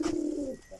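A single pigeon gives a short, soft, low coo close by, one brief rounded call that fades quickly, with no talk.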